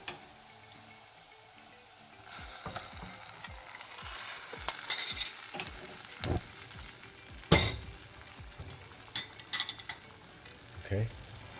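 Dungeness crab head butter sizzles and bubbles in a hot pan, a steady frying hiss that starts abruptly, broken by utensil clinks and stirring knocks.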